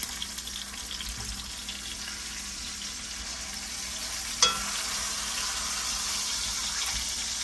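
Chicken crisping in a hot pan gives a steady, close frying sizzle and hiss throughout, with one sharp clack partway through and no talking.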